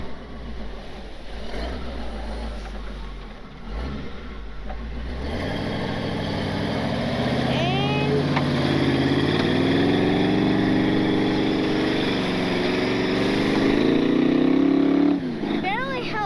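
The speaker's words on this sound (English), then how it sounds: "So apparently this thing can pull that truck." A 1948 Willys with a V8 engine strains to pull a truck out in the wilderness, a loud, close engine rising in revs to a sustained roar, then dropping off near the end, with voices talking over it.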